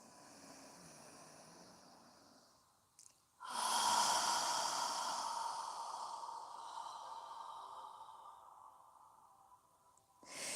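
Deep yogic breathing: a quiet breath in, then a long forceful exhale squeezing all the air out, a broad rushing hiss that slowly tapers over several seconds before another breath begins, close and alone.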